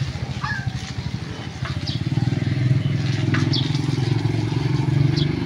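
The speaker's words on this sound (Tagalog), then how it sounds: "Nakabike ako ngayon eh." Motorcycle ride, a steady close engine drone with a low rumbling pulse that builds slightly and holds, with faint chirps and clicks scattered above it.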